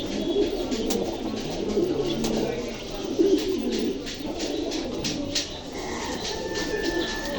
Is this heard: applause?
no